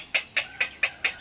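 A chicken clucks five times in a quick, evenly spaced series, close and clear with no other sound.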